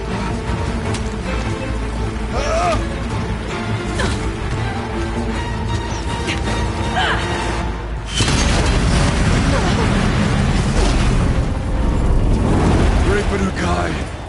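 Explosions in the Horizon Zero Dawn video game, a dense rumbling battle mix with booms and crashes that swells sharply about halfway through, with voices talking over the action.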